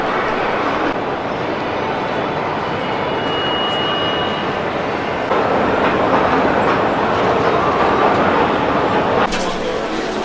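Moscow metro train running, a loud continuous rumble and roar of wheels on rail with a brief rise in intensity partway through, heard from inside the carriage.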